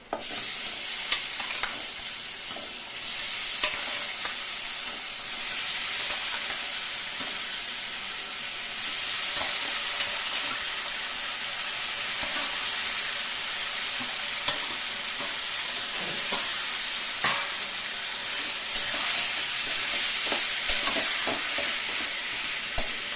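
Taro leaves are stirred and fried in a pan for a Bengali hilsa-head dish, making a continuous close sizzle dotted with frequent scraping and clicking stirs throughout.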